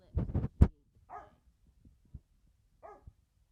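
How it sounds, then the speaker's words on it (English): A dog gives a few sharp barks close by, then a couple of softer, whiny yips follow after brief pauses. "Eclipse, there's no reason to bark like that, buddy."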